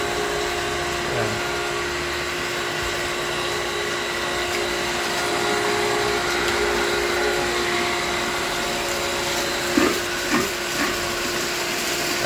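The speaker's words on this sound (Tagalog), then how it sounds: "Ito po ang aking vacuum pump." A vacuum pump runs steadily while cleaning debris and chlorine residue from the floor of a swimming pool, a continuous broadband whirring hum with a few brief knocks near the end.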